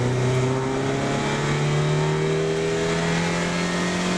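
A top-trim Yugo's small engine revs hard while accelerating, heard from inside the car as a steady, loud drone whose pitch climbs slowly for several seconds with no one talking.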